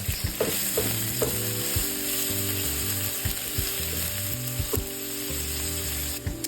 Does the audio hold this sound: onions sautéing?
yes